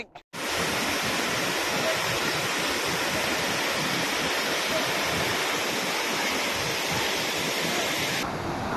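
Steady, full-bodied rush of clear river water at a free bathing spot in Nagcarlan, loud and close, running continuously with no voices over it.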